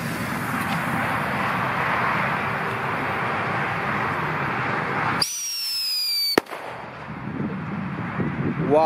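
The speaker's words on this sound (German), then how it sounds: "Jetzt kommen wir zu den Whistling Thundern. Die coolsten Böller." Whistling Thunder firecrackers set off outdoors around New Year's Eve: a dense, continuous rumble of blasts, then a rising shriek from a whistling cracker and a sharp bang, followed by more crackling explosions.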